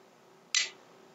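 A single sharp clack of a large Spyderco folding knife's backlock snapping into place, brief and close against a quiet background.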